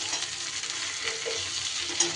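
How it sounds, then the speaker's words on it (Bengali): Vegetables for a Bengali chachchari frying in a pan while being stirred, a close, steady sizzle with light scraping and no voices. "আরও 2 মিনিটের মতো আমি ভাজবো"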